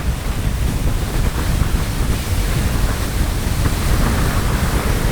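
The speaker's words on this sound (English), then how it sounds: "That's windy." Strong wind buffeting the microphone out on choppy water while riding an eFoil at around 15 to 18 miles per hour upwind, a loud continuous roar with rumbling low gusts and no voices.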